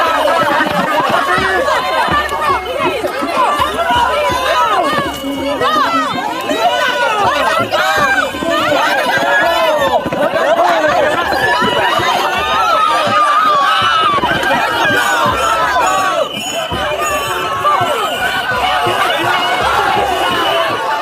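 A large, dense crowd at an ICE facility protest, with police arresting people, chattering and shouting continuously, with running footsteps and raised voices throughout.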